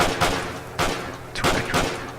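Gunfire in a video game: four sharp, loud shots spaced roughly half a second apart, each with a brief echoing tail, with no voices.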